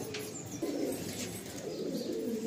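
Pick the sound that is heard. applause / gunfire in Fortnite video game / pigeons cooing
pigeons cooing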